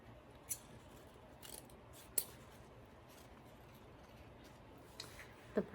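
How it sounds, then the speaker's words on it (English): Sharp scissors snip through ribbon loops while a large bow is made, a few separate crisp cuts spaced apart with a quick pair at the end, close but quiet and without speech. "Sometimes I miss them and go back and cut them again"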